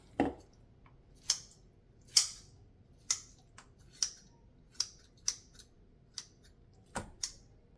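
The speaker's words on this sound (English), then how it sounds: "Cut the pork into half." A knife slices through defrosted pork belly on a board, about ten crisp, evenly spaced cutting strokes, close and fairly quiet.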